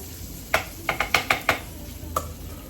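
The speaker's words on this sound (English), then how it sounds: "spoon this lovely unicorn pasta" A spoon scooping buttered unicorn macaroni and cheese pasta out of a pan, giving several close, sharp clinks and soft scrapes spaced irregularly over a quiet kitchen background.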